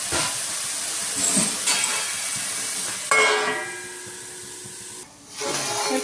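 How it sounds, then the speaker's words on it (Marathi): Bengali-style eggplant curry steams under a pan lid, giving a continuous close hiss that shifts in strength partway through as the lid settles. "थोडीशी वाफ घेऊन दाखवते झाकण ठेवते मी त्याच्यावरती"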